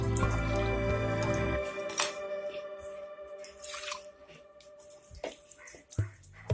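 Raw rice is washed by hand in a bowl of water, with splashing and dripping, a loud pour at the start and scattered sloshes and drips afterward.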